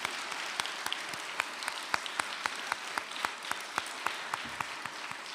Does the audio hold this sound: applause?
yes